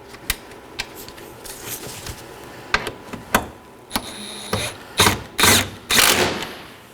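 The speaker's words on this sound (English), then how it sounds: "And now to reinstall our 2 10mm bolts. I'm just going to snug these down." A hand ratchet tightens two 10mm bolts on a 2013-2019 Nissan Sentra headlight assembly, giving bursts of sharp clicking with short pauses between strokes, close by.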